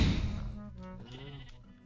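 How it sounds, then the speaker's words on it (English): Sheep bleating in the Minecraft video game, one wavering, drawn-out bleat that starts loud and fades slightly, heard clearly with no talk over it. "Why is there a sheep in here?"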